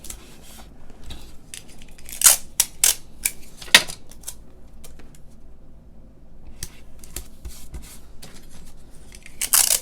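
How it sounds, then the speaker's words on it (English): Tape is torn and pressed onto a colored stamped card before die cutting, giving scattered sharp crackles, rips and taps with quiet gaps between them, close by and with no talking. "So I'm gonna put tape on here."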